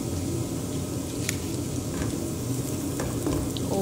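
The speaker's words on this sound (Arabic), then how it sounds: "أول ما معنا البصل نضيف الثوم، ملعقة طعام ثوم" Onion and garlic fry in a pan for chicken jareesh soup, giving a steady, close sizzle with a few faint clicks and no talking.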